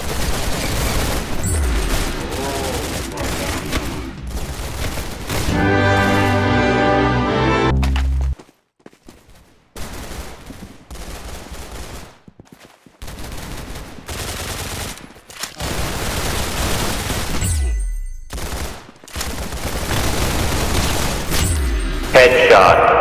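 Video game gunfire in the Roblox shooter Arsenal, rapid bursts of shots and automatic fire crackling through most of the stretch with brief lulls, while a player's voice talks over it.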